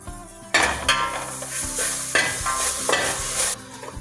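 Ginger, garlic and green chilli paste hits a hot pan and fries with a loud burst of sizzling, then keeps crackling while a utensil stirs it in a few scraping strokes; no one speaks.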